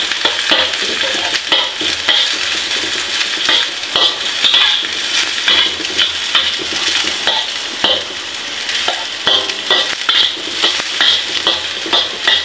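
Garlic sizzles steadily in a hot frying pan while a utensil stirs and scrapes through it, a loud, close, continuous crackle with rhythmic clinks, no talking.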